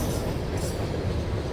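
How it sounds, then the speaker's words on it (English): A long coal freight train, likely carrying Pennsylvania coal toward a power plant, rumbles past close by outdoors, a dense, steady low roar of wagons on the rails. "This is a long train."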